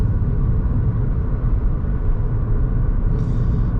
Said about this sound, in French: Donc là, j'utilise toujours mon frein moteur dans la descente.